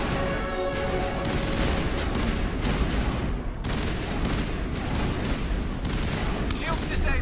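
Dense, sustained gunfire and explosive impacts from a firefight in Mass Effect Legendary Edition, loud and continuous throughout with a brief dip midway, with a voice talking over the shooting.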